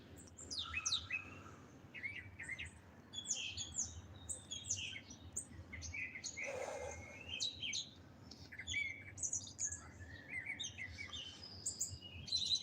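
Birds outdoors in the morning, including a male and a female red bird, chirping and tweeting in quick overlapping bursts throughout, fairly distant and soft, with no talking.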